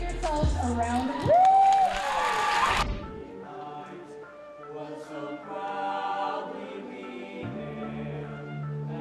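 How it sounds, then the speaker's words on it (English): A school audience cheers and whoops in a loud burst, with shouts that fade into a lingering murmur of the crowd and some music underneath. "Give yourselves a round of applause."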